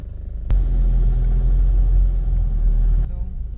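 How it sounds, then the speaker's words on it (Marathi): A car's engine rumbles steadily for a few seconds while it is being parked, a low close drone that starts abruptly and then drops away. "गाडी पार्क करतोय"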